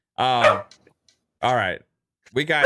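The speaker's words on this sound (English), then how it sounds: "Oh, there's a doggy." A dog gives three sharp barks spaced about a second apart, loud and near, with people talking around them.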